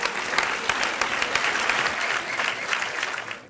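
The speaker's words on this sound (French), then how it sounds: "Sous vos applaudissements." An audience at a school award ceremony for high school students applauds: dense, steady clapping from a crowd close by that fades out in the final half second.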